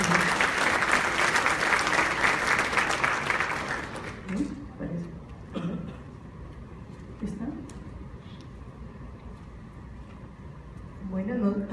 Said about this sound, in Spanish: a quien pido también un fuerte aplauso